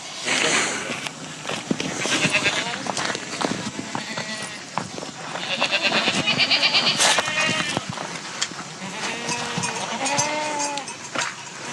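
Several goats bleat repeatedly in Turkey, some close and loud, over shuffling movement, with people talking and shouting nearby.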